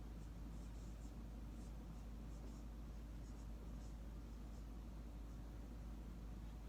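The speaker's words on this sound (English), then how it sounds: "So let's just write it here." Pen writing on paper, a faint steady scratching with short strokes, quiet and close over a constant low background hum, no talking.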